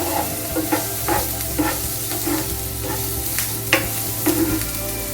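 A medium onion sautés in a pan for Irani pola, with a continuous close sizzle and regular stirring scrapes from a spoon, with no voices over it.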